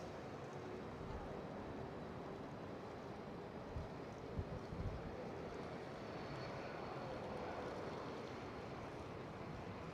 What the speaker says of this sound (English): And the KLM 777.